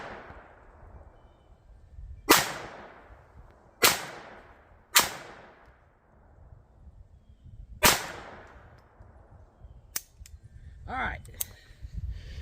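A Beretta 21A pistol fires Remington Golden Bullet rounds, giving four sharp, loud cracks at uneven intervals, each with a short ringing tail, followed by a couple of fainter clicks and rustles in otherwise quiet surroundings.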